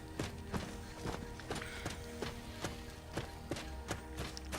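Horse hooves clip-clop in Skyrim, a steady series of regular, moderately loud thuds over a quiet tonal game background.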